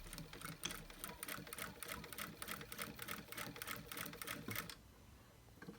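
A sewing machine runs steadily with white thread, stitching patchwork strips in a rapid, even mechanical clatter that stops near the end, with no talk.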